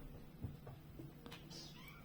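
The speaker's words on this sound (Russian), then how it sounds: "В ногах у меня котята возятся, пищат." Kittens squeak and meow faintly at close range during a home knitting session, brief high chirps scattered over a low steady background hum.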